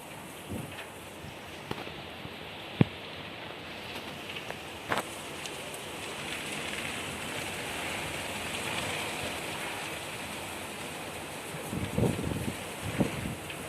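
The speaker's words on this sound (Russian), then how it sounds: "ливень пошел. И ветер сильный." Heavy rain shower driven by strong wind during a May thunderstorm: a dense, steady hiss of rain with gusty rushing, broken by a few sharp nearby knocks and drops, and no talking.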